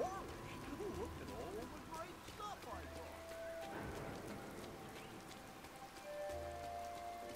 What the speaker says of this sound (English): Oh, you got to love a bit of rain.